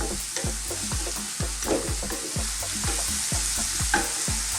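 Onions frying in a pan for goat curry, a steady hissing sizzle with a rhythmic series of low thumps and stirring scrapes close by.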